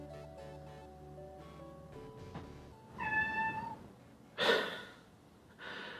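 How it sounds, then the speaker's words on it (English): A pet cat meows indoors, a pair of short, clear cries standing out near the end over a quiet background of faint music. "The cat says meow."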